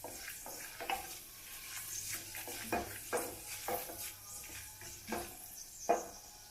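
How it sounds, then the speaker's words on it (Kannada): Cumin, mustard seeds, chana dal and urad dal crackle in hot oil in a pan, with soft stirring and a string of sharp pops and spits over a steady low hiss, close and fairly quiet. "ಎಣ್ಣೆ ಕಾದಿದೆ ಜೀರಿಗೆ ಹಾಕ್ತಾ ಇದ್ದೀನಿ ಸಾಸಿವೆ ಮತ್ತು ಕಡಲೆಬೇಳೆ ಉದ್ದಿನಬೇಳೆ"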